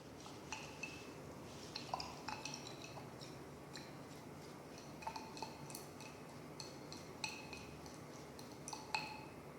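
Metal stirring against a container as iodine solution is mixed into Vanaspati ghee, a chemistry practical test: light, irregular clinks and scrapes recurring throughout, close and fairly quiet, with no voices.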